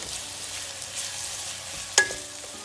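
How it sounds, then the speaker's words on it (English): Green chilies fry in a pan for chicken korma with a soft, steady sizzle, broken near the end by one brief clink of a utensil against the pan. "So let's fry it until it gets nice and translucent."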